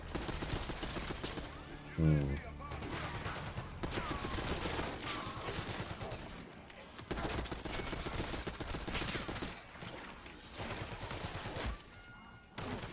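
SMG gunfire in a video game, rapid continuous bursts rattling close and loud for most of the stretch, with brief gaps between strings of shots and a thud near the start.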